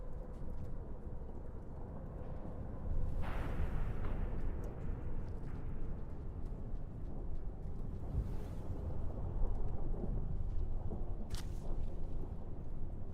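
Heavy rain roars steadily in the video game Rain World, a dense low rumble with swelling gusts and faint rolling thunder, loud and continuous with no voices.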